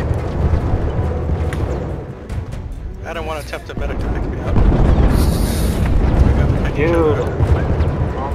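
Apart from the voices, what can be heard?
explosions in video game Battlefield 1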